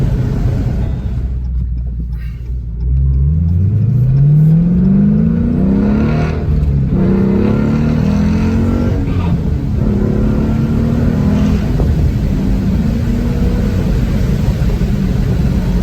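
A Dodge Challenger Scat Pack's V8 engine roars loudly as the car accelerates hard through the gears on a test drive, revs climbing in long rising sweeps, dropping briefly at each shift and climbing again.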